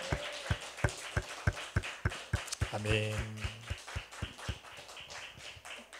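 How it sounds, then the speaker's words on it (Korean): Rhythmic clapping of a church congregation during a Korean Sunday worship service, a steady beat of sharp claps with a voice speaking briefly over it. "깨닫게 하신 하나님께 영광의 박수 올립니다"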